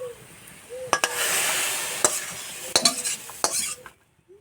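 A spatula stirs cauliflower in a pan as the last of the water dries off, with repeated sharp scrapes and clacks of metal on metal over a soft sizzle.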